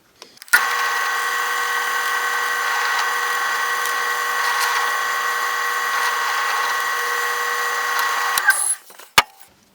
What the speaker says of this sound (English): Then I'll just drilling through both boards at once here